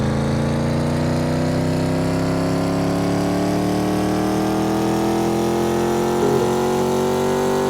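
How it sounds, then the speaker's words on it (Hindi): A video game car engine drones steadily and loudly throughout, its pitch gliding slowly upward as the simulated speed rises, with no voices over it. "इंजन की साउंड है जो चेंज कर रही है स्पीड के हिसाब से"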